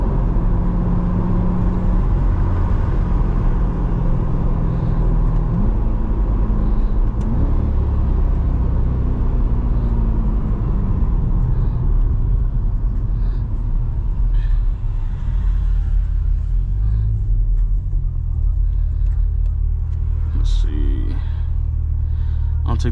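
A C8 Corvette with its exhaust valves open in manual mode roars loudly from inside the cabin, a deep, sustained engine rumble that swells and shifts pitch as it accelerates along a Florida road, with a voice talking over it.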